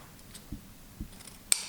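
Scissors cutting paper on the bias for a Christmas album craft, a few crisp close snips in quick succession, the last one sharpest, with no talk over them.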